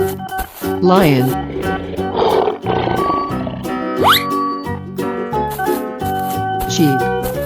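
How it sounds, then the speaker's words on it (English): A lion roars in a 3D animal video game with a loud, rough growl over upbeat game music and cartoon sound effects, and more roaring follows later on. "Lion."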